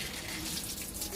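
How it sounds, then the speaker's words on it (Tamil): Water runs from a tap into a tub in a continuous, steady rushing splash, close and fairly loud, with no talk. "அதில் அவளுக்கான தண்ணி பிடிச்சி அவள் ஒரு டப்பில் தண்ணி ஃபில் பண்ணிகிட்டு இருந்தா."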